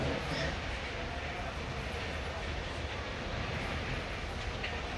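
Train in the Bounty Train video game: a continuous, loud rolling rumble with steady broadband rail noise and no distinct breaks, lasting the whole stretch.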